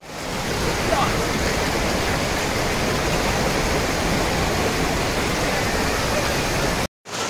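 Fast-flowing waterfall water near Munnar, a dense continuous roar, loud and close, with a voice faintly under it and a brief cut just before the end.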